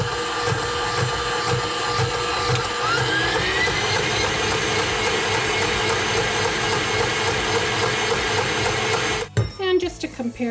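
A Kenwood Major stand mixer runs at mid speed with a steady whirring motor hum and rhythmic low thumps from the beater. The motor cuts off abruptly near the end, leaving brief clatter.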